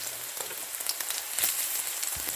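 Onions sautéing in a frying pan for egg garlic fried rice give a steady, close sizzle and crackle, even and unbroken with no voices over it.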